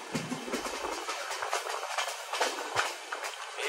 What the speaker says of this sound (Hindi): ये काफी फास्ट ट्रेन है